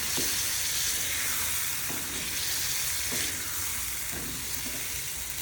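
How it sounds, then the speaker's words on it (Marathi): Mutton pieces sautéing in hot oil with onion, a steady loud sizzle throughout with faint periodic stirring scrapes, no voices. "आता याच्यात आपण मटण टाकून घेऊया त्याला सगळ्यांना परतून घेऊया आपण"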